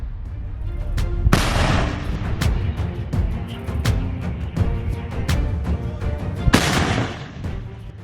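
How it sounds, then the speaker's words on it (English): Explosions from an FPV drone strike on a Russian tank column in Ukraine: a loud, continuous rumbling roar punctuated by repeated sharp blasts, two of them especially heavy, with no speech. "The 73-second video showed a series of explosions"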